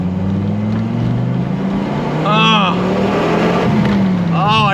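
A 1993 Dodge Viper RT/10 engine accelerates hard, its rising drone climbing in pitch, easing briefly, then pulling again up close while a voice talks over it.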